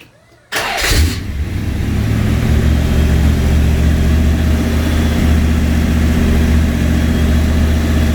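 After a brief quiet moment, a V8 383 small-block engine in an Austin-Healey Bugeye Sprite cranks and fires. It then settles into a loud, steady, deep idle that runs high on the choke, close to the listener.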